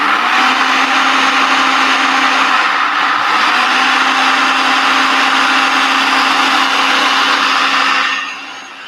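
A loud, close mixer or blender runs steadily as it grinds toasted hemp seeds into a dough, its whirring roar holding constant for several seconds before winding down at the end.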